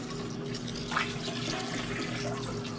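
Hot rinse water at 180 degrees Fahrenheit is poured gently over mash grains for home-brewed beer, a steady low trickle and splash under a constant hum, close and without speech.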